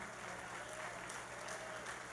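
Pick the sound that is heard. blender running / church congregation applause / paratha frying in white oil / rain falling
church congregation applause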